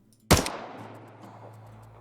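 A single sharp gunshot sound effect with a metallic layer, striking loudly and then trailing off into a long ringing, reverberant tail that fades over about a second and a half.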